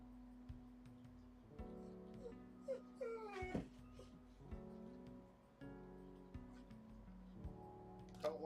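German Shepherd dog whining in a quiet room, repeated high plaintive whimpers and wavering moans in uneven bursts, faint and nearby, with low steady tones in the background.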